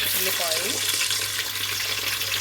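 Onions and curry leaves fry in a hot pan for egg biryani, giving a steady, loud, close sizzling hiss throughout, with a faint voice briefly underneath near the start.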